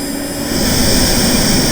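A steady, loud synthesized turbine engine tone from a software plugin, a dense roaring hiss with a faint high whine that swells slightly midway through.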